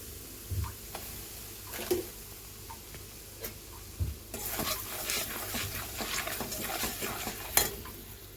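Gram flour stirred into a hot spice tempering in oil, soft sizzling with periodic spoon scrapes, the frying growing louder and denser halfway through.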